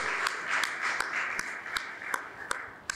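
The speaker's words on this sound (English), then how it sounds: "I think that deserves a huge round of applause." Audience applause at a college induction programme honouring a film director, a soft hissing wash of clapping with sharper individual claps standing out at a steady, regular pace.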